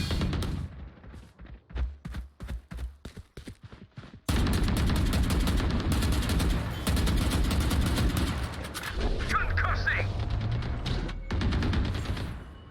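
Gunfire in a Valorant match: a string of rapid single shots, then a dense, sustained burst of automatic fire and impacts that stays loud to the end.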